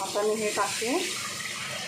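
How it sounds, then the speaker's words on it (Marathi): Water splashes into a pan of oil-sheened ground dal for a fiery village-style kat amti, a short pour heard under a voice. "आमटी बनवण्यासाठी हे पाणी"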